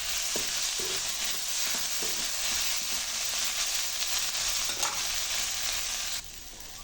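Dried prawns sauté in a pan with a loud, dense sizzling hiss and occasional scraping stirs. The sizzle stays close and steady, then drops somewhat quieter near the end, with no talking.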